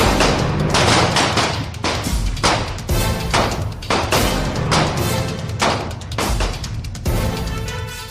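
Rapid bursts of gunfire ring out in footage of the shooting of Atiq and Ashraf, loud sharp cracks fired in quick clusters with brief gaps between them, close and harsh, with no clear voices.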